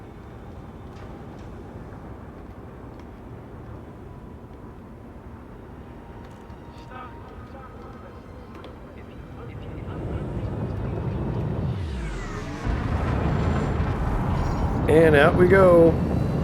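A spaceship's engines in Elite: Dangerous hum low beneath a speaking voice, then swell into a loud rising roar with sweeping whines toward the end.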